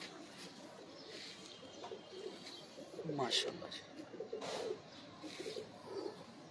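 Pigeons of an old show breed coo softly in a loft, low murmuring calls swelling around the middle, with a voice talking over them.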